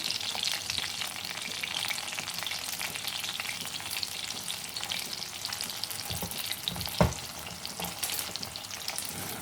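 Potatoes fry in oil in a pan for a Sindhi-style aubergine and potato dish, giving a steady close sizzle. A spatula turns them over with scraping sounds and one louder knock late on, and no one speaks.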